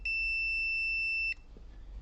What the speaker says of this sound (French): je me suis mis en mode bip